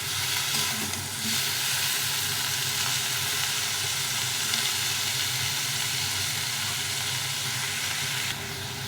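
A paste of ginger, cumin and green chili sizzles steadily in hot oil for a fish curry, a loud, continuous close frying hiss with faint stirring and no voices.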